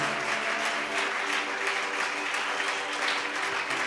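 A church congregation applauding, a dense, sustained burst of many hands clapping at moderate distance, steady from start to finish.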